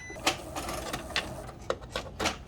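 Epson EcoTank 15000 printer running with no paper loaded, a steady motor whir broken by repeated short clicks and clunks at uneven intervals, close and moderately loud.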